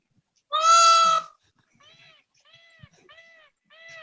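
A peacock gives one loud, harsh, close call, then a string of four shorter, fainter cries at a steady, spaced rhythm, with no talking.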